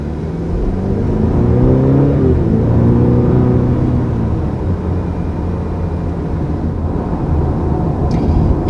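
A 2020 Cadillac CT4 with a roughly 180-horsepower engine gets up to speed, a steady loud engine drone and road rumble from inside the cabin, with the engine note rising briefly early on.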